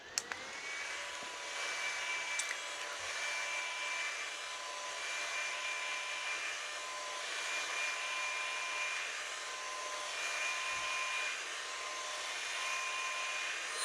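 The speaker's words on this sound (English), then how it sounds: "Use my fan here." A small electric fan runs steadily nearby during a makeup session, giving a continuous airy whir with a faint tonal hum that holds even from start to finish, with no voices.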